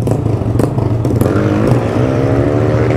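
A Honda Start 160 motorcycle with a straight-pipe exhaust and no muffler revs hard and loud nearby. The engine roars continuously with a rising pitch, and some rattling clatter runs through it.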